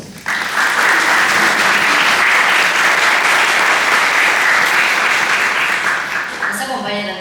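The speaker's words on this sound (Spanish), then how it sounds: "Por favor, seguimos con fuertes aplausos al congresista Juan Burgos" An audience at a formal event with a head table bursts into loud, sustained applause for a congressman. The clapping swells quickly, holds strong and dense, then starts to thin near the end.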